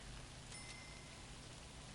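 Steady rain falling in the prison-management game Prison Architect, a soft continuous hiss at low level with no talk over it.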